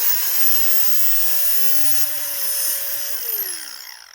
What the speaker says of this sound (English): plug in the Dremel like so, and basically cut a little hole in